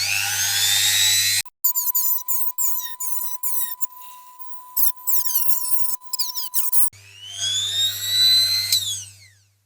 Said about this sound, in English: Right, here we go with a cutter.